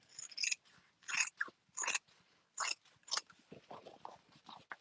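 Scissors snip repeatedly through a sewn fabric seam allowance, trimming near the stitches in a steady run of close, crisp cuts with brief pauses.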